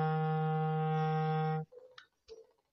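Clarinet sounding a low F, a steady, reedy sustained tone held for about a second and a half before cutting off, followed by a couple of faint brief clicks.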